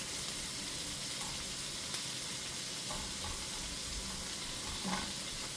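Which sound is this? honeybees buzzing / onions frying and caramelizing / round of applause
onions frying and caramelizing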